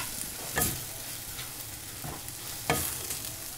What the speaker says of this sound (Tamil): ஆனியன் வந்து நல்லா வதங்கிட்டு இருக்குது